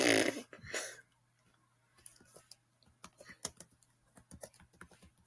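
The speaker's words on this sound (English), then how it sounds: "So you may hear a lot of typing." Keys click on a computer keyboard in short irregular bursts after a brief breathy noise at the start, close and fairly quiet, with pauses between runs of keystrokes.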